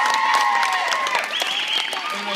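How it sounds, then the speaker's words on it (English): An audience applauds during an award for a grand-prize iPad, the clapping steady and close, mixed with a voice and higher tones. "so that we can give her a round of applause"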